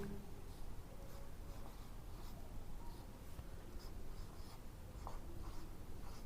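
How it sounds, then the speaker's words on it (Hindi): Pen or chalk scratching out notes during a sericulture lecture on silkworm rearing, steady writing strokes over a constant room hum with faint background noise. "तो लिखेंगे"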